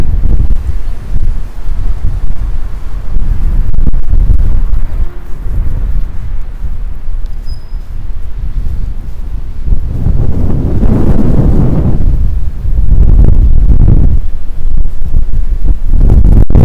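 Strong gusty wind on a street in Kaspiysk, roaring and buffeting close against the microphone throughout, with heavier surges toward the end and no voices.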